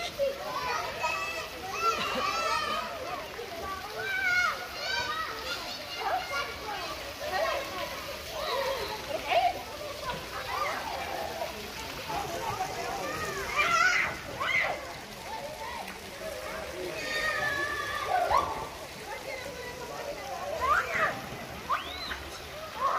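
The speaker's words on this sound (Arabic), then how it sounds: "هنا تلقوا لهم النافورات باش يعوموا فيهم الدراري" Children play and splash in public water fountains at Sidi Rahal, with lively overlapping kids' voices and shouts over steady sloshing and splashing water throughout, close and busy.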